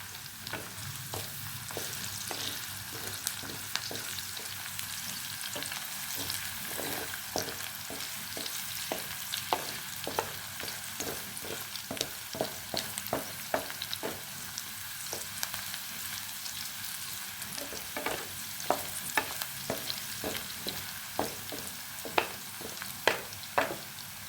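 Chicken frying and being stirred in a pan over a low flame, with a steady soft sizzle and repeated scraping strokes of a spoon throughout, no voices.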